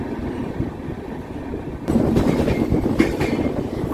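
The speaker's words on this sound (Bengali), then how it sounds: "ট্রেন ছেড়ে দিল কোডারমা স্টেশনের 4 নম্বর প্ল্যাটফর্ম থেকে" A passenger train pulls out of platform 4 at Koderma station and runs on, a steady close rumble of wheels and carriages that swells louder partway through, with faint clacks and a brief squeal.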